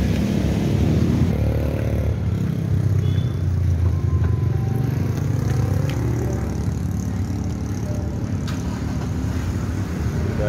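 A 2015 Toyota Rush engine runs steadily and close by, a continuous low rumble holding even throughout with no clear revving and no talk over it.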